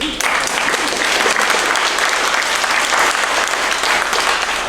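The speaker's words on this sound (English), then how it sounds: "So I'm gonna ask you to clap a couple times." Audience applause at National Day of Civic Hacking 2019 opening remarks, a loud, dense, continuous clapping from a room of attendees sustained throughout.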